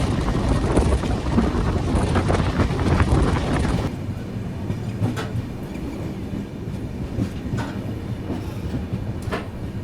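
The Lalgarh Superfast Express pulls away from Govardhan railway station, loud wheel and carriage rumble with wind buffeting for a few seconds, then dropping to a quieter steady rolling hum with faint clanks.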